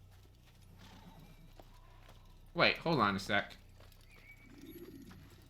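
A horse in the Assassin's Creed video game, following the player, gives one loud whinny over a steady low game background, preceded by a brief spoken line.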